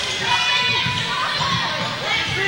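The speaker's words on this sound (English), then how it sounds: "crowd's yelling for somebody to get out there" Crowd at a women's college basketball game yelling and cheering, a dense, continuous roar of many voices with shouts rising above it, steady and loud throughout.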